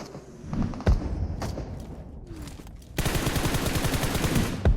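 Gunfire in PUBG Mobile: scattered single shots and thuds, then a sustained rapid automatic burst from about the three-second mark, loud and close.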